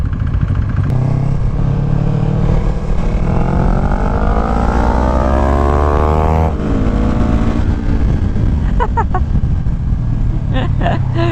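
Kawasaki Ninja 400 and KTM RC390 motorcycles racing side by side, with loud, close engine roar rising in pitch through repeated accelerations and gear shifts under steady wind rush.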